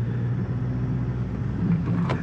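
Mitsubishi Triton pickup engine on an offroad track, a steady low rumble that swells slightly as the throttle is pressed near the end, with no talk over it.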